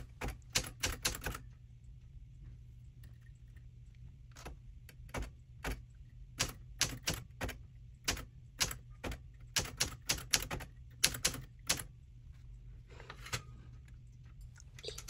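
Keys clack on a Smith-Corona Classic 12 manual typewriter in irregular bursts of sharp strikes with short pauses between them, close and fairly quiet, no voices.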